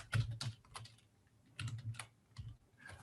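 Computer keyboard being typed on to enter a username into a login field, several quick bursts of close, crisp key clicks separated by short pauses, with no talking.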